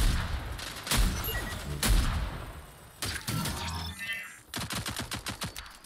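Bursts of gunfire in the shooter game Rogue Company: heavy single shots and rapid automatic volleys, loud and close, with a fast rattling string of shots near the end.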